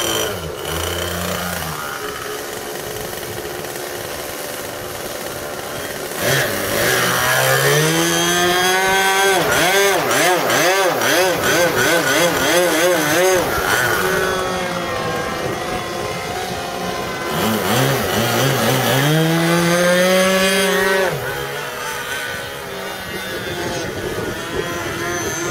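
Several small RC model plane engines buzz loudly on a spring day in Tokoroa, their pitch swooping up and down in wavering, overlapping whines as the planes hover together, steady and close for the whole stretch.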